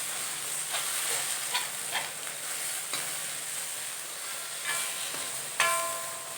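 Tomatoes dropped into a pan for rasam sizzle with a steady hiss, with light stirring clicks and scrapes spread through it and one sharper knock near the end, with no talking.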